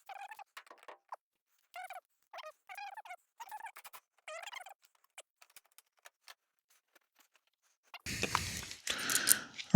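A ratchet wrench with a socket loosens 10 mm bolts on a BMW M235i, clicking in quick close bursts of pawl ticks separated by short pauses, followed by a louder scraping clatter at the end.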